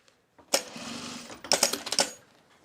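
A sewing machine tacks fabric in quick bursts: a short buzzing run of stitching, a brief pause, then several more rapid stitching bursts, close and clear.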